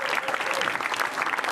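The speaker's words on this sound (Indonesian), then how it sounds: "Tepuk tangan buat Koide Namizo" Audience applause at an Indonesian stand-up comedy show greets a comedian, a brief dense burst of clapping from a crowd.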